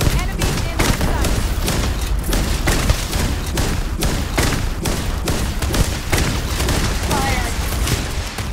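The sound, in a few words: gunfire from a firing squad in the video game Starfield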